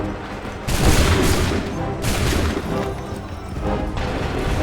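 Massed musket volleys roar out in Assassin's Creed III, loud crashing bursts of gunfire repeating about every second and a half over a dense battlefield din, with no talking.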